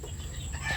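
Young gamefowl chicks cluck and peep softly in a brief, faint burst with a low background hum.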